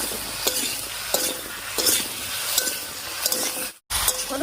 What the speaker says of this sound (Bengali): হলুদ লবণ দিয়ে খুব ভালো করে মিশিয়ে নিয়েছি